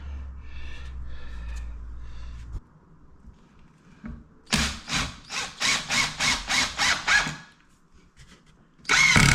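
A power drill unscrewing screws while building garden cupboards and a fan housing gives a close run of about eight short, evenly spaced whirring bursts, followed by one more burst at the end. The motor hum runs underneath at the start.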